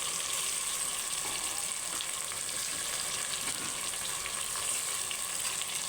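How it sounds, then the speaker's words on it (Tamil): Chicken with masala and fresh mint frying in a pan, giving a steady, close sizzle that stays even and fairly loud for the whole stretch, with no talking. "சிக்கனை போட்டுடலாம் போட்டு மசாலா எல்லாம் போட்டுடலாம் புதினாவை போட்டுருவோம்"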